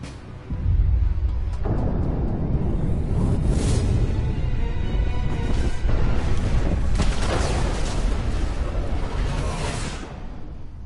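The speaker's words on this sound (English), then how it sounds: "She should have looked out to see the explosion." A bomb blast in the video game Mass Effect 2 destroying a facility on Pragia: a loud, sustained rumbling roar with whooshing debris that stays dense and heavy for about ten seconds, with no voices over it.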